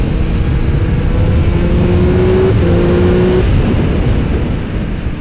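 2021 Triumph Speed Triple 1200 RS motorcycle accelerating with quickshifter gear changes, a loud close engine rising in pitch, a brief break at the shift, then climbing again before easing off.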